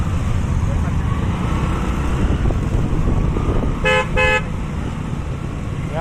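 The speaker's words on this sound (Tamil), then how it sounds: "என்னடா டிராஃபிக் இருக்கு" Heavy road traffic in Coimbatore, a constant engine and road rumble, broken by two short, loud car horn honks in quick succession.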